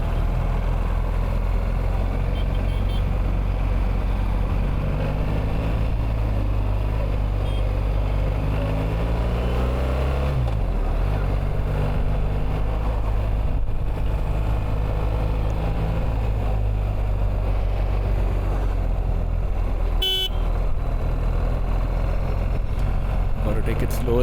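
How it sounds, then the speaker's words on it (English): A BMW R1300 GS motorcycle engine drones steadily while riding near Bangalore, a loud continuous low rumble with shifting pitch and wind noise throughout. "Now you can hear the bike's engine."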